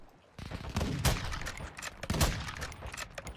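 Gunfire in the video game Call of Duty Warzone 2.0, two heavy close bursts of rapid shots amid a rumbling, noisy battle mix.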